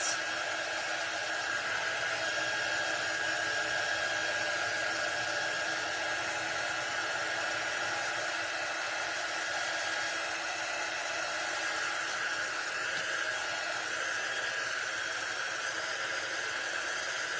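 A hair dryer blows steadily over a freshly painted Santa figure, a constant close hiss and whir lasting throughout without pauses or voices.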